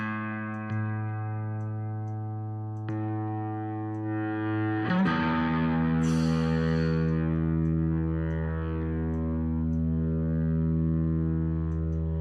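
Electric guitar played through a distorted amplifier, sustained heavy chords with a few new strums and a brighter crunchy hit midway, loud and continuous with no talk.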